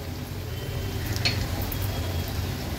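Onion fries gently in oil over a low gas flame, giving a close, continuous sizzle with light stirring sounds mixed in. No one speaks.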